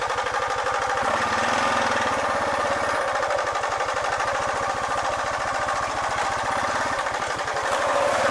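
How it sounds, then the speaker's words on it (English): Engine idling with rattling valves that need adjusting, a close, steady, rapid mechanical clatter running continuously throughout. "Y'all hear them valves rattling?"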